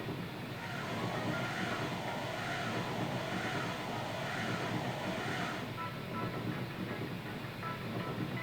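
Trains in Paper Mario: The Thousand-Year Door rumble continuously in a dense, steady roar of rolling noise that stays loud throughout, with no talk.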